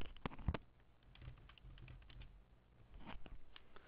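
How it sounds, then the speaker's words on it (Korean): Keys on a computer keyboard are tapped in short quiet bursts, close but faint, with soft irregular clicks spread over a few seconds. "영업권이라고 타이핑합니다."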